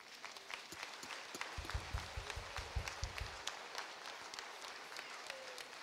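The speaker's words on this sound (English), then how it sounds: "Give them a clap as they stand." A church congregation at a Nairobi Baptist Sunday service applauds, a diffuse wash of many hands clapping at moderate distance, with a louder burst of low thumping claps through the middle before it fades back to a scattered patter.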